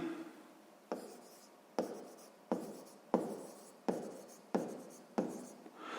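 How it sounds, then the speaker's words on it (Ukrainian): A pen writing on paper in steady strokes, about seven close, distinct scratching bursts roughly every 0.7 seconds, each fading before the next, heard alone without talk. "Так і запишемо."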